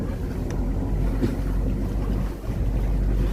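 A boat engine idles and gets a gentle touch of forward throttle during mooring and maneuvering practice. It makes a steady low rumble mixed with wind buffeting, and no one speaks.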